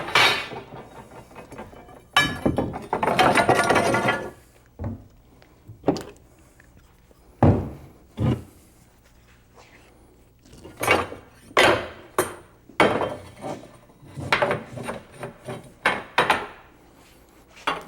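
A bender bends stainless steel frame tubing, giving repeated loud metallic clanks and creaks in bursts, with quiet gaps between strokes.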